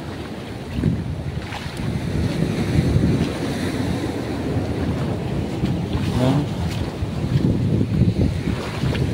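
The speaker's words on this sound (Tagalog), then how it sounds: "malakas ang alon o." Strong sea waves surge and crash nearby on slippery rocks amid gusting wind noise, a continuous rough roar, with a brief word spoken in Filipino.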